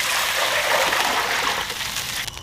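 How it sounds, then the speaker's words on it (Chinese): Water is poured into a wok over oil and seasonings for braising pork hock, making a close, steady gushing splash that fades toward the end. "加水"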